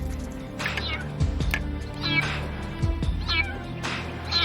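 A kitten stuck deep inside a car engine bay meows repeatedly, thin rising cries spaced through the clip over a low mechanical rumble, with faint voices nearby.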